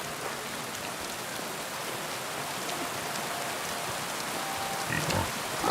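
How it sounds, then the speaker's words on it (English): Rain in the medieval video game Kingdom Come: Deliverance II falls steadily as a dense, even hiss that continues unbroken and alone, with a faint thump near the end. "Oh, don't mind the rain."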